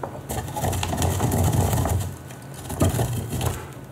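Toasted black pepper is crushed and ground in a mortar and pestle, a close series of gritty crunches and scraping strokes with uneven rhythm.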